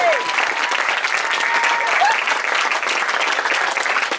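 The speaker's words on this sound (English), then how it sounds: "let's give a clap for you" A wedding reception crowd claps for the best men after a groom's speech, with sustained, lively applause and a few whistles throughout.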